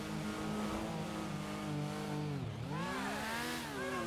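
A car engine driven in GTA during a cops role-play session hums steadily, its pitch dipping and then climbing again as the car changes speed, with no one talking.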